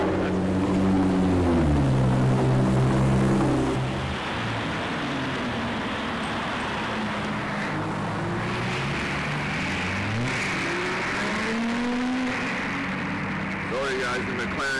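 A Ferrari LaFerrari supercar passes on its second run, its engine note rising and sweeping by loudly with a pitch shift, then fading while people talk nearby.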